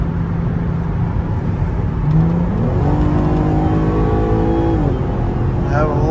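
A 2008 Audi TT 3.2L V6 quattro convertible drives along a highway, its engine drone and road noise steady and loud as the revs rise smoothly while accelerating.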